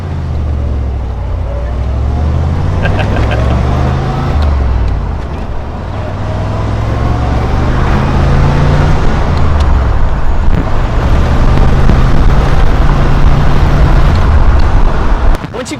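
A 1966 Corvette Stingray's engine pulls in fourth gear from inside the car, a deep, loud rumble climbing in pitch with each throttle push, easing briefly midway, then swelling again under wind and road noise.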